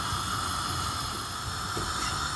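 A papad roasts on a hot pan over a gas flame, a steady, even hiss throughout with faint crackles, with no talking.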